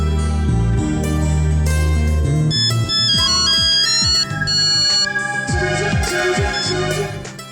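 Melodic phone ringtone playing through a film scene, a loud electronic tune of bright repeating notes with sliding tones, sounding continuously alone without any voices, then dropping slightly in level just before it stops.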